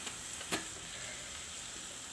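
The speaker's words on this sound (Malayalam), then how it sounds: "അപ്പോൾ നമുക്ക് കുറച്ചും കൂടി വെളിച്ചെണ്ണ ആഡ് ചെയ്യാം" Coriander and chilli spices fry in coconut oil for a Malabar fish curry, making a faint, even sizzle with one brief tap of a stirring spoon.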